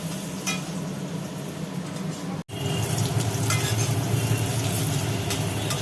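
Potatoes fry for aloo tangra in a pan, giving a loud, dense, continuous sizzle with stirring scrapes and light clinks, broken by one brief silent gap midway.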